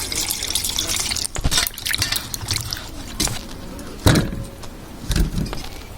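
Taro being washed in water, with sloshing, splashing and dripping sounds plus a few louder knocks and clatters from handling, close and irregular.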